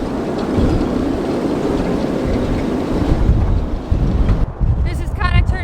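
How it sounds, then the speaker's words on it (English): Gale-force wind gusting near 40 knots at Morro Bay buffets the microphone in a loud continuous roar with surging gusts, water and boat noise mixed in, and a brief voice near the end. "it's already gusting close to 40 knots and supposed to pick up"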